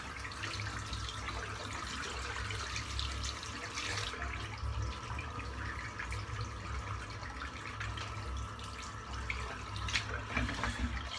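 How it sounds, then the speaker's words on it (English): Hot water runs from a tap into a bathroom sink as it fills for a wet shave, a steady low rushing splash that continues throughout, quiet and unbroken by speech. "fill the sink up with some more hot water."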